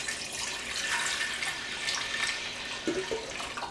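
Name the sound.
pouring Concord grape juice into a pan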